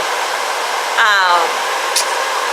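A steady, loud whooshing motor hum runs throughout from a BR Bluerise nail dust collector, with a brief voice-like burst in the middle.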